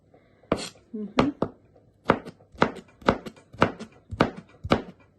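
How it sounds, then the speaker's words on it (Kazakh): Knife chopping radish into thin strips on a board, about nine sharp, evenly spaced thuds, close and distinct with quiet gaps between strokes. "Мінекей редискамызды соломка қылып турап алдық."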